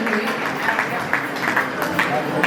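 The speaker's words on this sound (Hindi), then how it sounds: "एक बार जोरदार ताली मीनाक्षी दीदी के लिए भी होनी चाहिए" An audience at a cultural program applauds a speaker, a steady patter of many hands heard moderately close with light crowd murmur beneath it.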